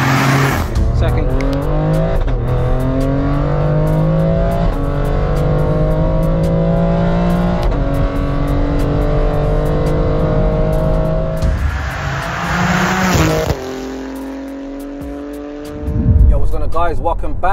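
An 830bhp BMW X3M drives on a motorway, its engine droning steadily with rising and falling tones as it accelerates and shifts, loud and close, with a brief change in road noise near the end and someone talking over it.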